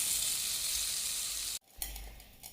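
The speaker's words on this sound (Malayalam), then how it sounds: "ബാക്കി നമുക്ക് ഇതുപോലെ വറുത്തെടുക്കാം" Snack batter frying in hot oil for a cupcake-flavoured snack shaped like unniyappam, made without baking powder, soda or yeast: a steady loud sizzle that cuts off abruptly, then resumes with scattered crackles.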